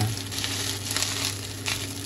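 Leftover Japanese-style fried rice with other ingredients sizzles steadily in a frying pan, a continuous close crackling hiss with small bursts from stirring, no voices.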